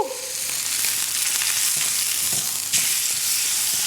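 Meat frying loudly in a hot pan, giving a dense, continuous close-up sizzle with a slight surge near the end and no voices.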